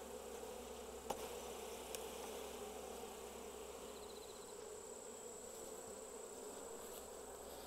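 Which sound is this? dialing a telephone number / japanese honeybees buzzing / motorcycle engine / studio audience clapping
japanese honeybees buzzing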